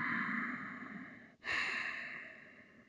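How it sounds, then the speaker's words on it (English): Slow, steady breath during a calm yoga session for spinal health: a long, soft airy exhale that fades, a brief pause, then another gentle drawn breath, close and quiet with no talking. "Good, slow, steady, gentle breath."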